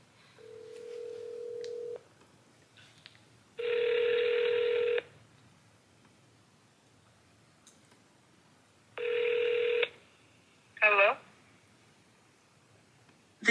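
A telephone call is placed: a steady tone, then bursts of dialing and ringback tones repeat with pauses between them, followed by a short warbling ring near the end.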